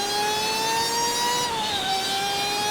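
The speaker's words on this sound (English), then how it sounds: "now the MX-5 sounds like an F1 car" Mazda MX-5 race car in the iRacing simulator, a thin high-pitched engine whine holding a steady tone before dropping slightly as the car shifts, loud and alone with no voices.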